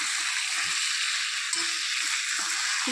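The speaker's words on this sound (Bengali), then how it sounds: "তো চিকেনটাকে ভালো করে কষিয়ে নিচ্ছি।" Chicken frying with spices for curry, a loud, steady, close sizzle that holds without a break, with faint scraping of stirring underneath.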